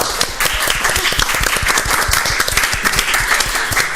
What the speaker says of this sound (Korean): 박수 소리가 큽니다